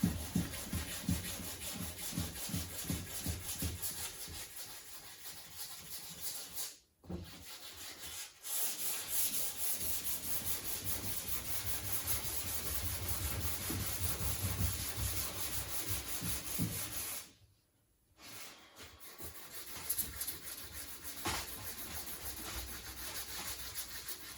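The roof panel of a 1991 Honda Civic is sanded by hand in a steady, rhythmic rasping scrub, close and continuous, pausing twice briefly before resuming.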